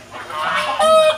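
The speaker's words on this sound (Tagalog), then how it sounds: "at nagpapakain na si Jolar ng mga manok" Chickens cluck and squawk close by in a short busy burst, with one louder call near the end, suggesting birds crowding around feed.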